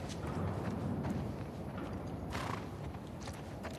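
Horses clip-clop in the video game The Last of Us Part II, faint steady hoof steps under a loud, noisy ambient background.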